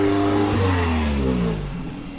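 A Honda car revs loudly and drives past at a car show in Indianapolis, its engine note rising then sliding down in pitch as it moves away and fades slightly.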